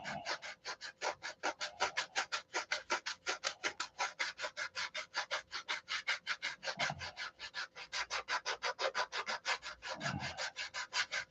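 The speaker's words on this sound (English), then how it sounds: "Sanding." A model airplane is sanded by hand in quick, even back-and-forth strokes, a close and regular scratchy rasp repeating steadily with no voices.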